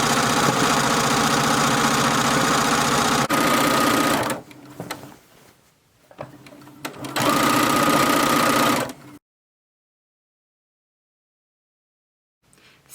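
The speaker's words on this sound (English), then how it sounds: "Sew them onto the quilt." A sewing machine stitches quilt corners onto a quilt, running loud and steady in a fast mechanical hum, pausing briefly, running again, then stopping into silence.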